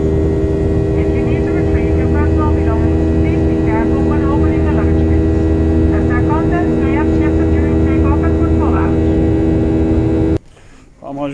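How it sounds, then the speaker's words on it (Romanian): Airplane cabin engine noise in flight, a loud steady drone and hum throughout, with faint chirpy sounds above it before an abrupt drop near the end. "Mare zgomotul în cabină."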